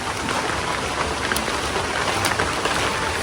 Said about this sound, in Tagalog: Medyo lumalakas na po ang patak ng ulan.